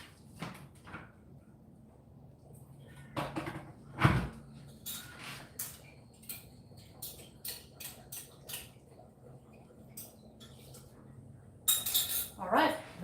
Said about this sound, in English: Stir your cooking. This is in a low fire, by the way, so that you will not burn your cooking